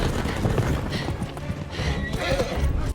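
Horses gallop in a scene from The Witcher series, with rapid hoofbeats close and loud and a whinny, amid a busy mix of other sounds.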